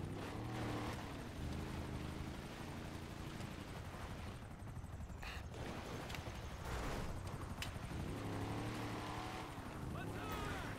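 A helicopter in the video game GTA Online drones steadily throughout, with engine and rotor noise and occasional bursts of game sound layered on top.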